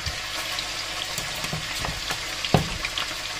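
Meat frying in a pan, a steady close sizzle and crackle with a few sharper pops, no talking over it.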